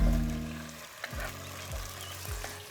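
Diced tomatoes dropped into a pan of frying vegetables, a loud sizzle that fades, followed by several sharp scraping stirs at regular intervals.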